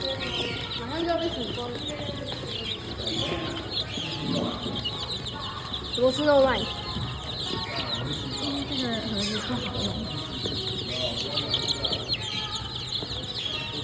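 Young chicks cheep in quick, high chirps scattered throughout, heard under a person talking and some background bustle.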